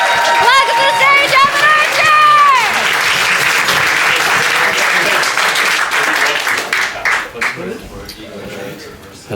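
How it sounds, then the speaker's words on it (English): A comedy club audience breaks into loud applause and a few whoops for a breakout comedian taking the stage; a host's voice rings out at first, then the clapping carries on alone and thins out. "Can we get that applause going?"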